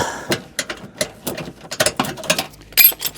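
Spanner working awkward, tight-access bolts on the front wing of a Nissan Micra K11, giving a string of short metallic clicks and scrapes at an irregular pace, close up with no talk.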